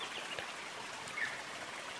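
A river stream flows with a faint, steady trickling wash, continuous and soft throughout with no voices.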